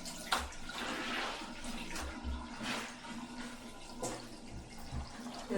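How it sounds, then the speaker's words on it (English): Water sloshing and splashing as clothes are washed and rinsed by hand in a sink, with rhythmic soft swishes and drips repeating close by. "I have a similar routine of washing my clothes in the sink if there's no laundry facility"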